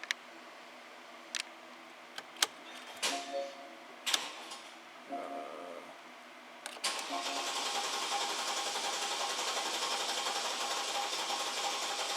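A Porsche Cayenne 4.8 V8 with a bank 1 misfire cranks after a few scattered clicks and knocks, then settles into a steady, loud, continuous engine roar that runs to the end.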